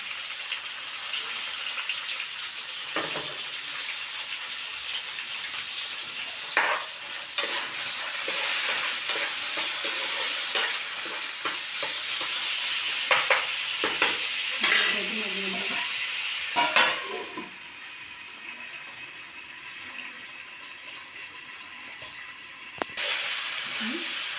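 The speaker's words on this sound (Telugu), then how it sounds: "ఇప్పుడు టమాటా కూడా వేసుకుంటున్నాను." Chopped tomatoes sizzle steadily as they fry in a pan in a village kitchen, with a spoon stirring and scraping in irregular bursts close by.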